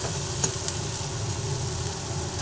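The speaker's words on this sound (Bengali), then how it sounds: "মশলাটা সুন্দর করে ভাজা হচ্ছে মশলা ভালোভাবে নাড়াচাড়া করতে করতে ভেজে নিলাম" Spice paste sizzles and crackles steadily in a hot pan while being stirred, a close, continuous frying hiss with occasional scraping clicks of the spoon.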